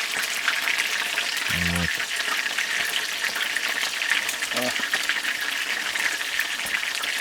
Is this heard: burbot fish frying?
yes